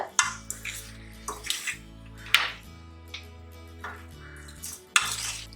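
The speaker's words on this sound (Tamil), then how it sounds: "உருளைக்கிழங்கு சேர்த்து மிக்ஸ் பண்ணி விட்டதுக்கு அப்புறமா வாஷ் பண்ணி வச்சிருக்கிற மட்டன் சேர்த்துடலாம்." Mutton and potatoes are stirred in a cooking pot for a Tamil-style mutton curry, giving irregular scraping and clattering strokes against the metal over a steady low hum, with no talking.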